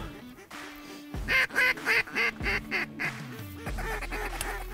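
Several ducks quack in a rapid run of loud, nasal calls during a hunt, close by, with a sustained low tone before and after the calls.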